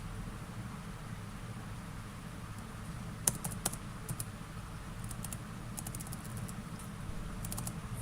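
Someone types a fund name on a computer keyboard in a quiet room. Scattered, faint key clicks come in short bursts over a low hum.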